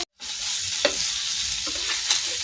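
Fish frying in a pan, a close steady hiss of hot oil that starts abruptly after a brief silence, broken by a couple of soft stirring or turning knocks.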